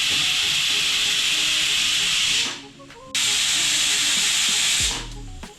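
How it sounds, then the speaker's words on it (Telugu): Pressure cooker boiling vegetables for pav bhaji lets out a loud, steady steam whistle hiss that cuts off briefly, resumes for about two seconds, then dies away near the end. "కుక్కర్ మూత పెట్టేసి దీన్ని బాయిల్ చేసుకోండి. ఒక 4-5 విజిల్ రానివ్వండి."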